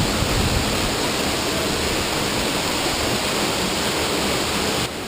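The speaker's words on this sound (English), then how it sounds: "we're looking at one of the major waterfalls in Grenada" Steady, dense roar of a waterfall in Grenada pouring down, loud and continuous, with no voices.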